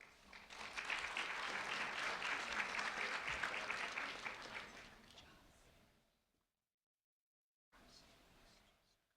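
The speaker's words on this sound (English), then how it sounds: "a round of applause for Roberto, please." A crowd claps steadily for several seconds, then the applause fades out; after a brief silence, more scattered clapping starts again.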